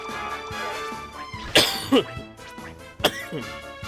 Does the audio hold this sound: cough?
yes